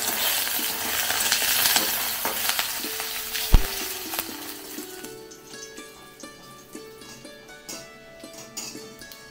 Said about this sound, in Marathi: तर तेल आपण जास्त प्रमाणात घेतल्यामुळे आपण 4 चमचे फ्राय करून घेऊया.